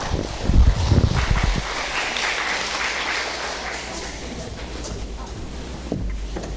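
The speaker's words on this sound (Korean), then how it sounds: "큰 박수 부탁드리겠습니다." Audience applause at a Korean launch ceremony for a Seoul care network, greeting a city council member invited to give congratulations. The clapping is dense and steady, slightly louder at the start, then keeps going as a continuous wash of many hands for several seconds.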